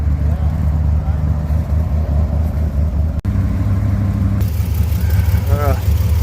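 A Slant 6 engine idles low and a little rough after a cold start, smoking heavily, with a steady low rumble throughout and people talking over it.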